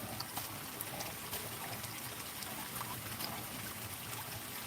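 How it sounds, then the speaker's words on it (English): Steady trickle of water running into a garden pond on a sunny day, a soft continuous splashing wash with faint scattered droplet sounds, quiet and unbroken. "Listening to the water"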